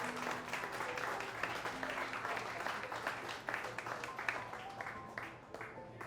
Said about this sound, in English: everyone, please give us a round of applause for Kathy, his loving wife